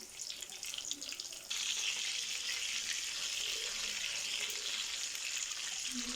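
Chapli kababs frying in a pan over medium heat, a steady soft hiss of sizzling oil that grows fuller partway through and then holds at a constant level.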